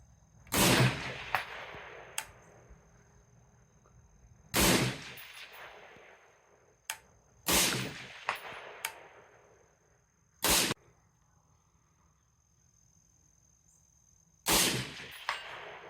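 Rifle shots fired from a bench beside a Garmin Xero C1 Pro chronograph, five loud sharp cracks spaced a few seconds apart, each trailing into a fading outdoor echo, with a few lighter clanks between them.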